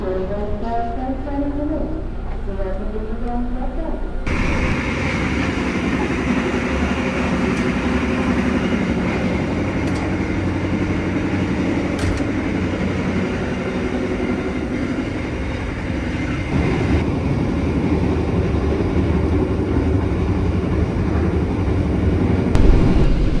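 A Bangunkarta economy-class passenger train departs, heard from onboard as a loud, steady rolling rumble that swells after the first few seconds and carries on continuously.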